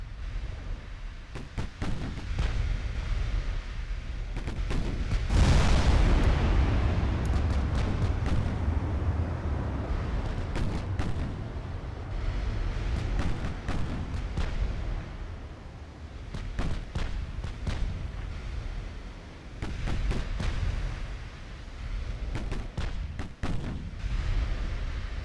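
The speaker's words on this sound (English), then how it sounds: "Small guns fire there." Naval guns, including 6-inch batteries, firing in the warship game Ultimate Admiral Dreadnoughts: repeated booming reports over a constant low rumble, with one heavy blast standing out early and sharp shots scattered throughout.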